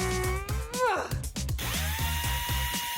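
A power drill whirs as it drives bolts into a wooden bunk bed frame, its motor pitch rising and falling, close and loud over a steady rhythmic background beat.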